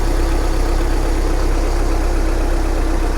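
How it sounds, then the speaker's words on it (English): A car engine idles steadily up close, a constant loud mechanical rumble with no other sounds over it. "No issues at all with this engine."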